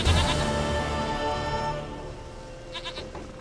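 A goat in The Witcher 3 bleats over a steady in-game ambient bed, with a short wavering cry near the end standing out against the sustained background tones.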